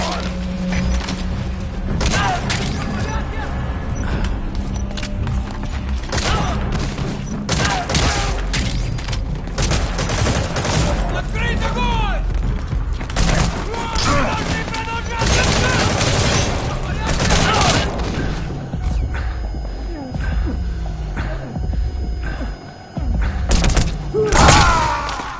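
Unsuppressed gunfire rings out in a video game as loud, irregular bursts of shots and thuds against busy game action. A voice speaks over parts of it.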